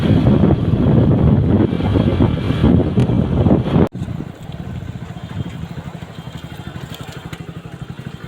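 Motorbike riding along a road on the way to a fair, with heavy buffeting wind noise and a low engine drone, loud and continuous, dropping after a brief cut to a lighter rumble.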